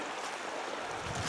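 Creek water flowing steadily just below a moss-covered forest trail on the Crispus Trail of Hidden Waterfalls, a continuous broadband wash with faint wind and no voices.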